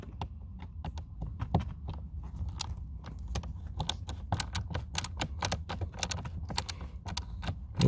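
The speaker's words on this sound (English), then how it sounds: "We're going to take out the second screw." A screw is being backed out of the cabin filter cover on a 2016 Mercedes-Benz S550 (W222), heard as a quiet, rapid run of small clicks and ticks at close range with no talking.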